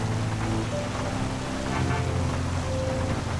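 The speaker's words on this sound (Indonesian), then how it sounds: "Di GTA ini suara hujan gak pernah berubah." Steady rain in the video game GTA 5, a dense continuous hiss with low rumbling and faint tonal game sounds underneath, constant throughout with no talking.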